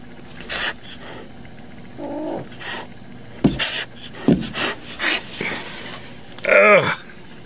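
A cat lets out a couple of short meows amid close rustling and scraping movement.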